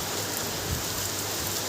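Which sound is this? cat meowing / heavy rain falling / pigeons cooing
heavy rain falling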